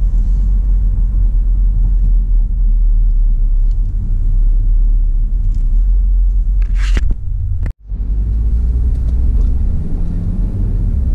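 Car interior on Detroit's M-39 Southfield Freeway, northbound from I-75, with a loud, steady low road rumble throughout and a brief sharp dropout and scrape-like burst about two-thirds through.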